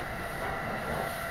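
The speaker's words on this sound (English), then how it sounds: "This is Ueno Tokyo Line train for Takasaki via the Takasaki Line." A JR East Tokaido Main Line train runs between Odawara and Kamonomiya, heard from inside as a steady, even rumble of wheels and motors with a constant hiss and no talking.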